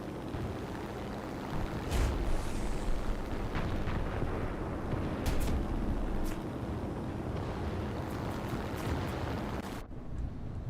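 Bombs dropped from a plane burst one after another in a naval combat game, a rumbling series of deep booms and crackling blasts over a steady low roar, moderately loud, ending abruptly.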